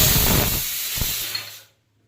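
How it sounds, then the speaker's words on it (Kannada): A pressure cooker whistle vents steam in a loud, close hiss that gradually fades and then cuts off into silence, with no voices present. "ಇದು ಮೂರು ವಿಷಲ್ ಆಯಿತು"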